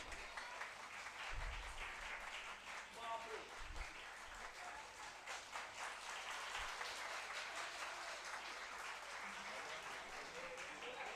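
An audience at a national-level college conference claps continuously for about eleven seconds. The applause is dense and even but fairly faint and distant, with a few low thumps under it.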